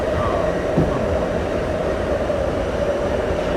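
Steady rumbling drone inside a moving passenger train car, a continuous loud rolling hum with faint rattles and no clear clicks, filling the whole stretch.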